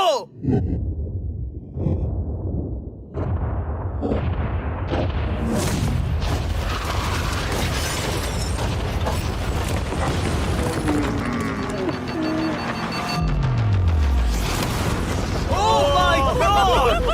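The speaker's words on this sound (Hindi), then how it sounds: "3, 2, 1, उड़ा दो।" Explosives blow up a yacht with a deep, sustained roar and rumble that holds for many seconds, then a low descending boom and a crackle of debris as it fades, loud throughout.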